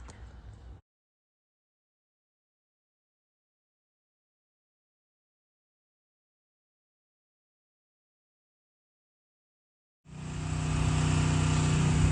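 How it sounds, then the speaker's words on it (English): A pressure washer fitted with a 25-degree tip rinses wood that has been cleaned with percarbonate and oxalic acid; after a long stretch of silence, a loud, steady, close spray and motor roar starts abruptly near the end. "I'll just use my 25-degree tip, rinse it with the pressure washer, and we'll see how it goes."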